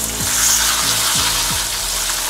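An egg fries in a wok with a steady, loud sizzle, a few low knocks and scrapes of a utensil breaking through at intervals.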